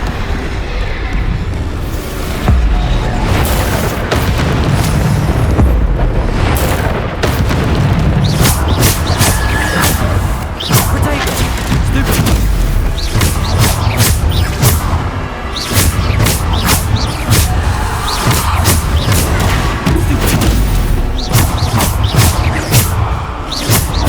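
Bombarda explosion spells from the video game Hogwarts Legacy boom repeatedly and loudly amid whooshes, crashes and dense combat effects, with occasional voices and a short quiet stretch early on.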